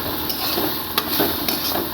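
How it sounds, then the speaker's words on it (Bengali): Salt being stirred into a ground paste of cumin, mustard, chilli and turmeric in a pan, with a few light scraping knocks of a utensil against the metal over a steady background hiss. "লবণটা দিয়ে ভালো করে আমি আর একবার মিশিয়ে নিলাম।"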